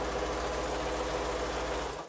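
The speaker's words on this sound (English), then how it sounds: "Okay, now I'm going to go ahead and I'm going to sew that." A sewing machine stitching a quilt seam runs at a steady fast pace, a close, even mechanical whir and rhythmic knock that winds down at the end.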